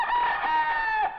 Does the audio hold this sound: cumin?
no